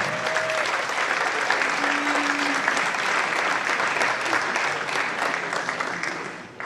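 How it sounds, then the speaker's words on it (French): Steady, dense applause from an audience greeting a table tennis player at a team match, running unbroken for several seconds before tapering off at the end. "Merci d'applaudir"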